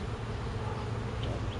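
Honey bees crowd around their queen on a frame pulled from a spring hive, giving a steady, close, low droning buzz that holds evenly throughout with no voices.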